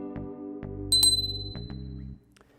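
A bright notification bell rings a clear metallic ding over a short sustained musical chord, loud and close, ringing out briefly before the tone stops.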